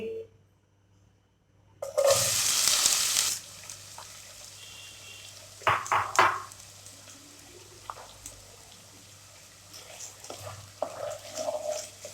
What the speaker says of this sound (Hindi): ऑयल हमारा अच्छी तरह गर्म हो गया। अभी हम इसमें ऐड करेंगे प्याज 2 अदद बारीक कटी हुई